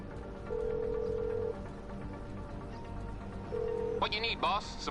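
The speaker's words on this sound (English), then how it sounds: "I've got my phone out and I'm already calling my mechanic" A mobile phone call ringing out in the game GTA V, two electronic ring tones, one around a second long and another shorter, close and clear, followed by a brief chirpy sound with voices talking.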